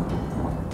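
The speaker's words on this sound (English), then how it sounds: "Thunderstorm." A low, heavy rumble of thunder rolling briefly, loud and close, with a rain-like wash behind it.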